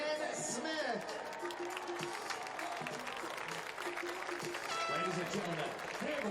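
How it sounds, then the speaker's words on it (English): A large arena crowd at the 2019 CrossFit Games applauds and cheers the athletes after a women's sled-push heat, with sustained clapping under an amplified announcer's voice. "give a round of applause for all your athletes in heat number 2"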